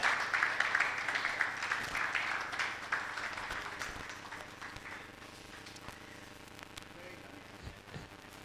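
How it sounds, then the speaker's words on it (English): Audience applause at a disaster preparedness and response workshop, a fairly loud, dense round of clapping that slowly thins and fades over several seconds, with a few voices mixed in. "a round of applause for them."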